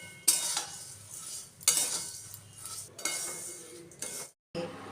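Flattened rice (chira) frying in a pan with ghee and sugar, stirred with a metal spatula: a few sharp clinks against the pan over a low, steady sizzle and scraping.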